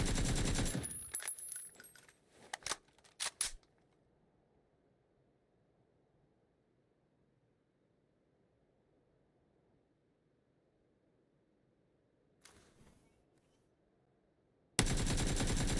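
Loud bursts of automatic gunfire from the video game PUBG open the clip, then a long near-silent gap with faint noise, a brief rustle near the end and a sudden loud return of sustained firing at the close.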